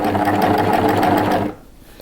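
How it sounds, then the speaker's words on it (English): A cover stitch sewing machine runs fast and steady, stitching around the corner of a lace camisole, then stops abruptly and leaves near-silence. "you can turn a corner with the cover stitch machine"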